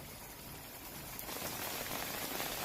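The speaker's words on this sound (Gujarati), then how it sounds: "બગસરા પંથકમાં પવન સાથે વરસાદની શરૂઆત।" Rain falls with gusty wind in the Bagasara area of Amreli, a dense, steady hiss of drops that grows slightly louder partway through, with no voices.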